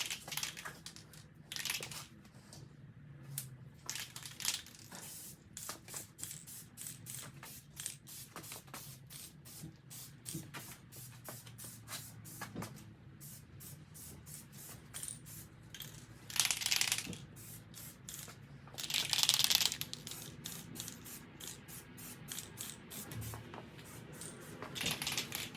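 A spray can lays a PlastiDip coating onto a grill, with short hissing bursts near the start and two stronger sprays later, set among scattered light clicks and rustles in a quiet space.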